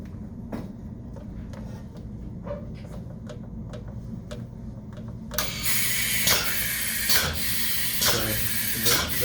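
A pump on a Python XL DA25 unit sucks blue fluid out of a column, ticking in a regular rhythm before a loud, steady hiss of rushing flow joins in partway through.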